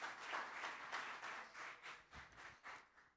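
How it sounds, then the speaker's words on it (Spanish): Congregation applause during a bilingual Spanish-English church sermon, heard as faint, distant clapping in rippling bursts, quiet and alone without speech. "Give a big round of applause to the Lord."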